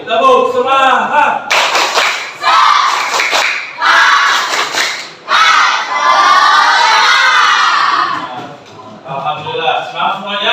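Children in a sixth-grade classroom shout a rhythmic spirit clap chant together, loud and close, with bursts of claps and call-and-response phrasing; an adult teacher's voice leads between the group shouts.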